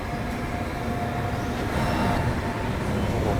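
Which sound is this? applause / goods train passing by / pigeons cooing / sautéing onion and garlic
goods train passing by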